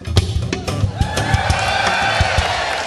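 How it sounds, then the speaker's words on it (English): A live concert crowd at a guitar show roars, cheers and whoops continuously, loud and close, with rhythmic thumping beats underneath throughout. "And the crowd start going crazy like this."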